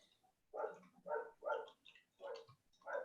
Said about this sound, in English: You'll probably hear my dog in the background.